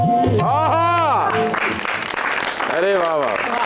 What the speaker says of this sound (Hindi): परफॉर्मेंस पे तालियां और जिसने लिखा है उसको सलाम।